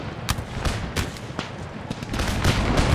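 Musket volleys from line infantry in the strategy game Empire: Total War (Darthmod), a dense crackle of overlapping shots popping irregularly over a constant battle din with no speech.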